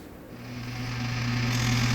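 A rotary tool cleaning up the back of a pulse port in a Minarelli engine case gives a steady whine that rises in pitch as it spins up. It is close and continuous over a short stretch, with no talk.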